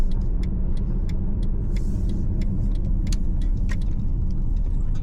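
A Mercedes CLS 550 V8 with all-wheel drive is heard from inside on the move, a steady loud road and engine rumble with faint ticking clicks, and no talk.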